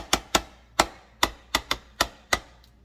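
Kitchen scraper strokes against a mixing bowl of cobbler batter, eight sharp, close scraping taps in an irregular rhythm, each a short bright burst, with no talking.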